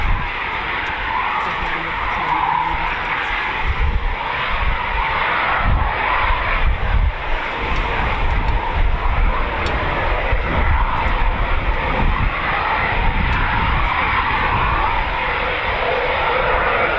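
An RAF Typhoon fighter on a practice display at Coningsby makes a long, rumbling jet roar, heavy in the low end and shifting in intensity as it passes, heard at a distance with faint background noise.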